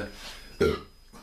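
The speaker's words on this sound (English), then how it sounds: "That's that nice belch I was talking about." A man lets out a single short, low belch after drinking Badger Brewery Tangle Foot ale, a brief burst rising out of quiet room tone.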